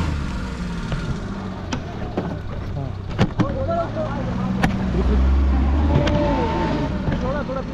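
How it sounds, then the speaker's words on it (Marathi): A car stuck in mud during heavy monsoon rain, its engine droning and revving in low rumbling bursts, with people shouting and talking over it and sharp knocks scattered throughout. "आता गाडी अडकली चिखलामध्ये"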